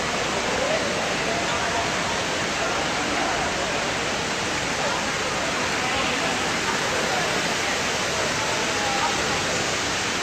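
Artificial waterfalls in Dubai pour in a constant, dense rushing roar, broad and steady throughout with no break.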